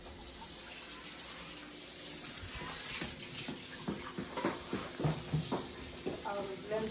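Shrimp are rinsed under a running kitchen tap while Nigerian egusi soup is being prepared, making a steady close hiss of flowing water with splashes and handling sounds building toward the end.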